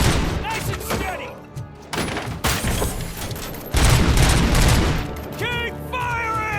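Gunfire in a RoboCop game, loud bursts of rapid shots in several volleys with short lulls between, mixed with shouting voices.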